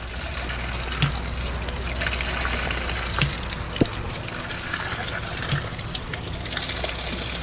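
Continuous rushing and gushing of water from a newly installed water pump, steady and fairly close, with occasional faint knocks and voices in the background.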